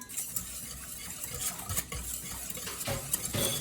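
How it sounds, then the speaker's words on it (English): Quiet scraping and clinking of a utensil stirring food in a pan, with a faint sizzle underneath and no talking. "Let's give it a stir."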